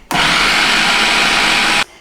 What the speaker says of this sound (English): Just make sure you don't overheat your blender, that can happen.